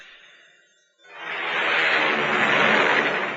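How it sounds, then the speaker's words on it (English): A loud, broad jet roar of an American Airlines airliner taking off swells up after a moment of quieter engine whine, then holds steady and powerful as the aircraft throttles up. "Hear that? It's the sound of a mighty American Airlines flagship taking off."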